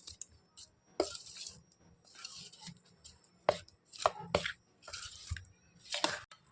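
Batter with refined oil is stirred by hand in a bowl, giving close, irregular bursts of wet sloshing strokes with soft scraping and clinks against the bowl, separated by short pauses, and no talking.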